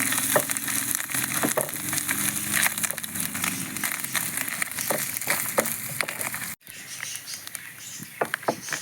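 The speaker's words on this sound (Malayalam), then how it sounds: "ഈ തേങ്ങ ഇതിലേക്ക് ഇട്ട് കൊടുത്ത് നന്നായിട്ട് ഇതൊന്ന് ബ്രൗൺ കളർ ആവുന്നിടം വരെ" Grated coconut frying in a pan until browned for a Kerala Onam chena erissery, with a steady close sizzle and crackle and scattered sharp pops, which briefly drop out near the end before the sizzling resumes.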